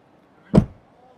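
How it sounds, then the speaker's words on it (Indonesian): A single solid thud of an Isuzu MU-X door shutting close by, short and heavy, with quiet surroundings before and after. "salah satu yang gue suka dari MU-X ini adalah suara nutup pintunya yang terkesan"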